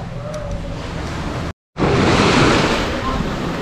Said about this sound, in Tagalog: dahil nandito na rin tayo sa dagat, ang ganda ng dagat oh